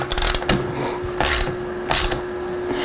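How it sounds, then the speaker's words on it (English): A ratchet snugs down the axle bolts on a Luna Lander fat suspension fork fitted to a Sondors e-bike, giving three short, close bursts of clicking spaced about half a second to a second apart. "just gonna snug down the axle bolts."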